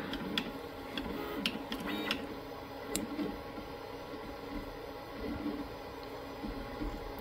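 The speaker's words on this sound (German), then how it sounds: "Und den Clip-Adapter hinten, den druckt gerade der Drucker noch aus." An Artillery Genius Pro 3D printer with a 22x22 cm bed prints a clip adapter, giving a steady near mechanical whir with faint ticking and small clicks throughout, no voices.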